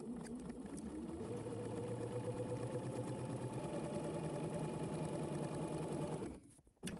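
A sewing machine stitches steadily toward a marked dot on a garment, its motor running in a dense, even whir for about six seconds before stopping abruptly.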